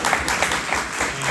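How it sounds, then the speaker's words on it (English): Audience applause for speakers at a business roundtable Q&A, a steady wash of many hands clapping at moderate loudness, sustained without pause and with no talk over it. "Let's give a round of applause to our speakers today."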